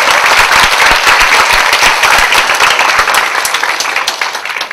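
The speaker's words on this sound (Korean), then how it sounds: "박수 쳐주시려면 크게 쳐주시면 제가 더 열심히 강의합니다." Loud, dense audience applause at a lecture on cooperatives, many hands clapping close and continuous before tapering slightly near the end.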